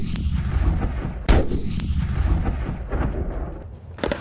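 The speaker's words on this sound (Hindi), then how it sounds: "तोपों की दिल दहलाने वाली आवाज से दुश्मन का कलेजा दहल रहा है।" Indian Army artillery guns fire at night on the Mahajan field firing range in Rajasthan, with a sharp heavy boom and repeated distant thuds and rumbles rolling over a constant low roar.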